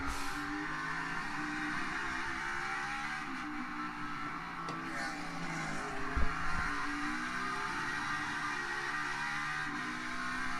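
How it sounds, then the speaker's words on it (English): NASCAR Cup Series race cars at Road America in 2021 make a steady, fairly faint engine drone with shifting pitch that blends into a continuous roar, with no voices over it. "That's a lot of car noises there."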